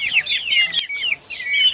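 Local chicks in a coop give close, continuous high-pitched peeping, with many overlapping chirps.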